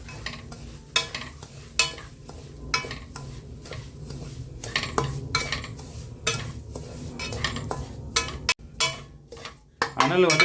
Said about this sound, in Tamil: ரவை இதில் கொட்டிக்கலாம். வறுத்துக்கணும்.